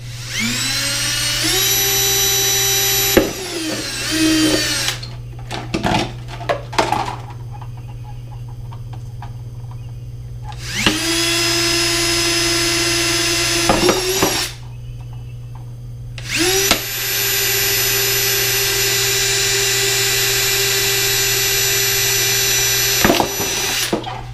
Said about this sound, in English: Just let the drill do its job.